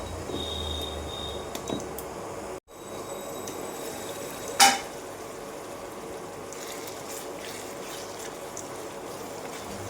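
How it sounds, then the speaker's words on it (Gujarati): Tomatoes sizzle softly as they cook on low heat in a pan for a dhaba-style sev tameta sabji, stirred now and then, with one brief louder scrape near the middle over a steady quiet frying hiss. "ટમેટાને આપણે આવી રીતે વચ્ચે વચ્ચે ચલાવતા રહેવાનું છે।"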